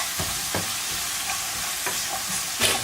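Burdock root kinpira fries in a pan under a constant sizzle, punctuated by several distinct scrapes and knocks of a utensil stirring it, close up with no talking.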